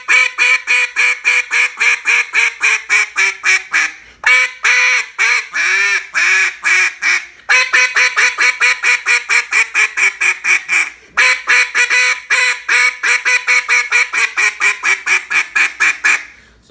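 Black River Tyrant single reed duck call blown in rapid pop-note bursts, loud, close quacking sequences in four runs with brief pauses between, no talking.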